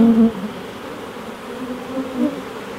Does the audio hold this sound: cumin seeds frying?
no